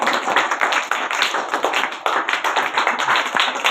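Dense, lively applause from an audience at a primary school farewell function fills the moment, steady clapping throughout with no speech over it.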